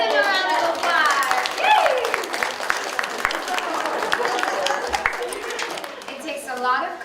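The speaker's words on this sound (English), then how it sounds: "Give them a round of applause." An audience claps in a brief round of applause at a group event, scattered and moderate, while voices cheer and talk over it.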